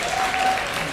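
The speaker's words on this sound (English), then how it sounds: "Dog walking, it gets an applause break in Oregon." Audience applause at a comedy talk, steady dense clapping from a crowd that fills the whole moment without any speech over it.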